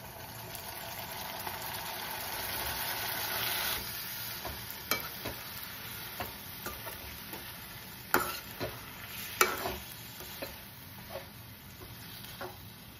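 Chopped tomatoes cooking in a pan with ginger-garlic paste and turmeric for a cashew tomato curry, giving a steady close sizzle broken by sharp spoon scrapes and clinks against the pan as it is stirred.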